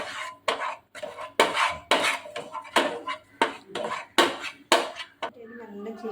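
A spoon scrapes and clinks rhythmically against a metal pan while chilli powder, chaat masala and salt are mixed for fried makhana, close and in regular strokes with short pauses.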